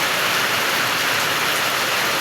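Heavy monsoon rain pours down in a dense, even, loud hiss that fills the whole moment without pause or voices.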